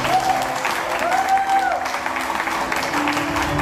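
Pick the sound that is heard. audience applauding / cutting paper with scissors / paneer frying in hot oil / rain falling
audience applauding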